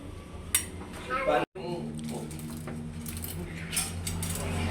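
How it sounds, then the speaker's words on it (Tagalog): Rice noodles (bihon) being stirred in a cooking pan, with scattered metallic clinks and scrapes of utensil against the pan close by, under background voices and household noise. "Hinahalo na po ni RJ yung bihon."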